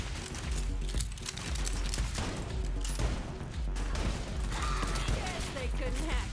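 Rapid bursts of gunfire in the shooter game Borderlands 3, dense repeated shots rattling throughout at steady loudness, with a player's voice talking over them.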